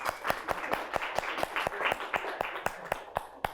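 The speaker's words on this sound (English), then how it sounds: "Let's give them a round of applause" An audience at a music teacher-training session claps in a quick, even rhythm, each sharp hand strike standing out close by over a low bed of further applause.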